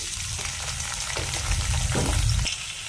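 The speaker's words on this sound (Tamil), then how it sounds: "வெங்காயம் பாருங்க நல்லா வதங்கிக்கிட்டு இருக்குது" Sliced onions sautéing in a pan for a potato pepper fry, a steady close sizzle with stirring scrapes that swell louder midway, no talk.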